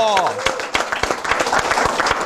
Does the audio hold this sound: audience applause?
yes